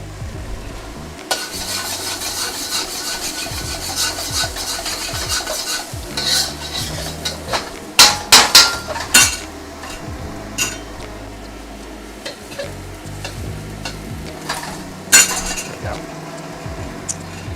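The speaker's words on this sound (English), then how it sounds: "So I'm going to let that fry." Jalapeños frying in a pan while salt and pepper fish is cooked, giving a steady close sizzle broken by stirring scrapes and the clink of utensils against the pan.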